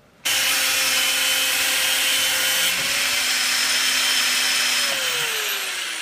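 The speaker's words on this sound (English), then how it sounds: "I just drilled a hole in here" A loud, steady electric drill whine runs continuously for several seconds while drilling a hole in metal, starting abruptly, with a high grinding tone and shifting pitch as it bites in.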